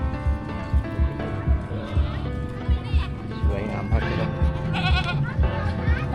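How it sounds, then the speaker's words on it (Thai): Farm goats bleat in short, repeated calls mixed with people talking nearby, over a background of soft thumps and crowd murmur. "เป็นแพะครับ"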